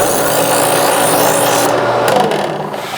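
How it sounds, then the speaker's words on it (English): An electric knife sharpener grinds a kitchen knife with a steady, loud abrasive rasp over a motor hum, the grinding easing slightly near the end. "So I'm gonna put this through our electric sharpener"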